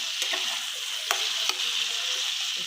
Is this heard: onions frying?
yes